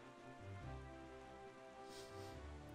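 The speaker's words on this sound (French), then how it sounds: "Ah, ça pleut." Rain pours down in Zelda: Wind Waker HD, a steady, fairly quiet hiss of falling drops laid over the game's tonal music, with no one talking.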